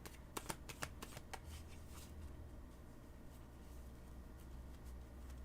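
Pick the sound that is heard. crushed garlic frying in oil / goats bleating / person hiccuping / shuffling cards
shuffling cards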